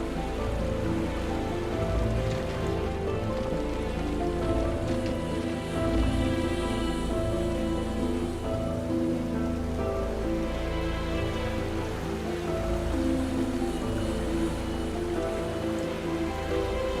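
Steady rain patters densely on a hard surface, a constant close wash of drops with no pauses and no voices.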